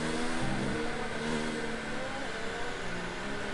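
A racing car's engine in the F1 2019 video game drones steadily past at high revs, a dense, loud whine with no talk over it.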